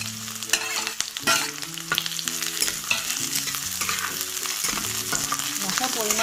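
Chopped onions frying in hot oil in a wok after fish was fried in it, a steady close sizzle with frequent clinks and scrapes of stirring, while background music plays throughout.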